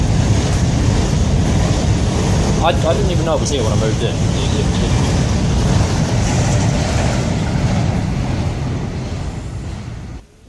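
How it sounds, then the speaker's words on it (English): A train passing near a house, a loud continuous rumble with brief high squeals partway through, fading out at the end while someone talks over it. "That's a train."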